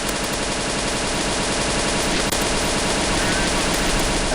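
Dense, continuous rapid gunfire fills a zombie escape round on the ze_sky_temples map, loud and unbroken, like sustained automatic fire, with a faint voice underneath.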